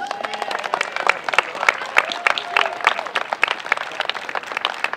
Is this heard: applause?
yes